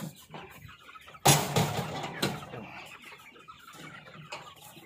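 Farm chickens cluck and a rooster squawks loudly near the start, with softer clucking and scattered rustling afterward.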